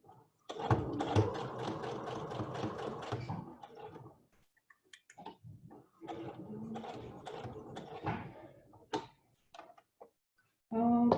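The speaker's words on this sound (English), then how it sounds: "when I'm done sewing, I will most likely go over the part of the elastic again with a few stitches just to secure it" A home sewing machine stitching elastic onto a cloth face mask, running in bursts of fast, steady mechanical chatter at close range, separated by short pauses, with one brief restart near the end.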